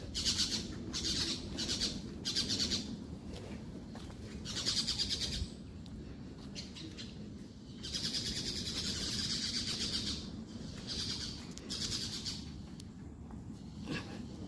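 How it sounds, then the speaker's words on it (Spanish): Many parrots and other birds squawk and chirp repeatedly in the distance, an overlapping chorus of harsh calls with no one speaking. "solo oigan los pericos cómo se escuchan. Hay muchos pericos, hay muchos pájaros."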